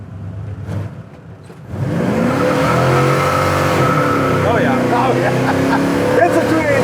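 A 1965 Chevelle restomod with a 283 engine is quiet at first, then roars as it accelerates hard through the gears. The loud, rising engine note stays close, with a few brief voices under it.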